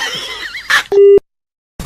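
A phone call ends with a short electronic disconnect beep, a single steady tone followed by silence, after brief talking.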